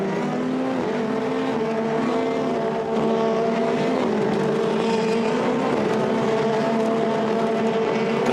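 Formula Renault 2.0 race cars run at Monza, a steady mid-distance engine drone with several cars layered together in a line, holding a fairly even pitch throughout without speech.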